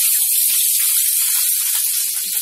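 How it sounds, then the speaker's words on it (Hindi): Chopped onion, ginger and garlic sizzle loudly in hot oil in a kadhai after mushrooms were fried, a steady, dense crackling hiss that holds without a break. "ये जो प्याज अदरक लहसुन सब चीजें हमने ली हुई हैं, सभी को एक साथ हम इसमें डाल देंगे"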